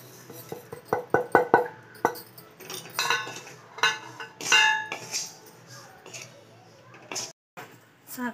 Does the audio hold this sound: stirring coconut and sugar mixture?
yes